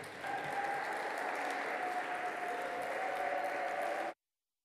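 An audience at a climate justice plenary gives warm, sustained applause as a panel is welcomed on stage, with steady dense clapping that cuts off abruptly near the end.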